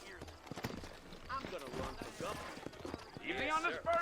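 In the Red Dead Redemption video game, horse hooves clip-clop in a quick, steady rhythm beneath game dialogue, with a snort or whinny near the end.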